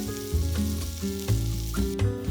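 Butter melts in a frying pan just used for browning meatballs, a sizzle underneath layered music with recurring short rhythmic hits.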